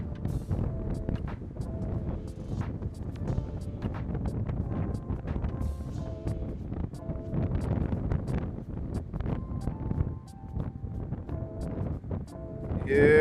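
Wind buffeting a microphone near the ocean while a drone flies close over the water, a continuous rumbling gusty roar with irregular thumps, heard alone without speech.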